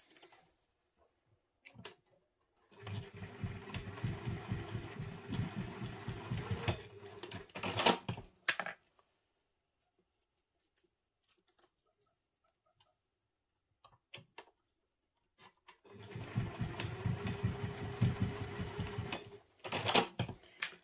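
A sewing machine stitches across the zipper tabs of a wallet in two bursts of rapid, rhythmic mechanical clatter, separated by quiet pauses with small handling clicks.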